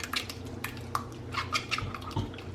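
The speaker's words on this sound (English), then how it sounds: "I'm just going to whisk this up" An egg is whisked in a small bowl for egg wash for cheeseburger egg rolls, giving quick light clinks and taps of the whisk against the bowl, close and fairly soft, in an irregular rhythm.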